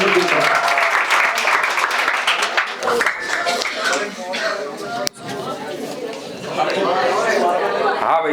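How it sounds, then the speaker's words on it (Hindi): An audience at a school coaching institute's annual function claps loudly to welcome a speaker. The applause is strongest at the start and continues unevenly, mixed with crowd chatter and voices talking over it. "एक बार जोरदार तालियों से स्वागत हो जाए"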